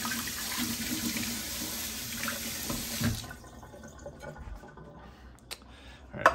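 Tap water runs steadily into a kitchen sink while a knife is quickly washed under it, then cuts off halfway, leaving quiet drips and faint clinks.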